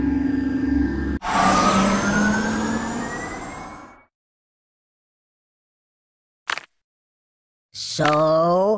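Cartoonish emergency siren in the mobile game Kick the Buddy, a loud rising wail that cuts off, followed by a short blip and then a second loud, warbling siren burst.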